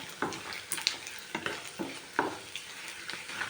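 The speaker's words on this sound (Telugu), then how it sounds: "పచ్చట్లోకి పోపు వేసుకొని చల్లారి పెట్టుకొని" A tempering for red chilli pickle crackles in hot oil, with a soft continuous sizzle and regular scrapes of a spoon stirring every half second or so.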